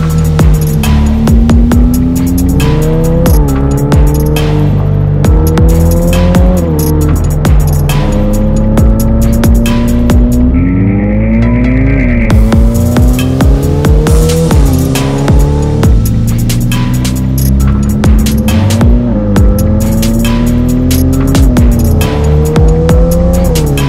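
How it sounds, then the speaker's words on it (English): A Novitec Ferrari F8 N-Largo supercar in Rosso Magma drives hard, its loud engine rising and falling through repeated gear changes and revs for the whole stretch, heard from on board with no talk. "the fact that we're driving another F8 N-Largo"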